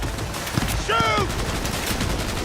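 Bursts of gunfire in Cyberpunk 2077 during a chaotic firefight, with a short tonal whine cutting through the shots, all close and loud and partly mixed with voices.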